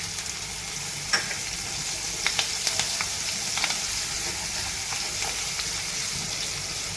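Green chillies frying in hot oil with garlic cloves, a steady broadband sizzle throughout with scattered sharp pops and spatters, close and fairly loud, with no talking.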